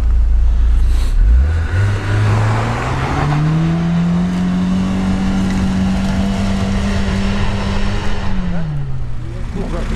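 Toyota on 215/65 studded winter tires pulls away in low first gear with the differential locked, its engine note rising then holding steady and close, with road and tire noise beneath.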